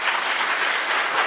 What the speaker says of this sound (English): Again, I ask that we hold applause.